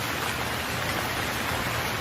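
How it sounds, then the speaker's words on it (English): Rain pours down in a thick, unbroken hiss, close and steady throughout with no other sounds. "it's pouring like crazy. It's raining cats and dogs over here."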